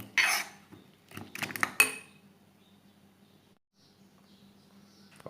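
Eggs and herbs are beaten together for an omelette, producing quick clinking bursts of utensil against bowl up close, followed by near silence.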